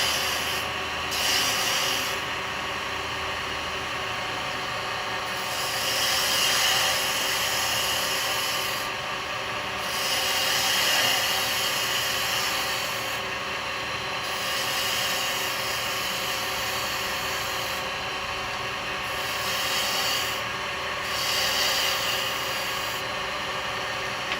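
A carbide chisel cuts a wooden Christmas nutcracker spinning on a lathe, making a steady, rasping hiss that swells and eases in repeated passes, close and fairly quiet.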